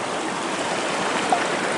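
A river rushing over rocks in a dry creek bed in California, a steady, close, broadband wash of flowing water with no pauses and no voices.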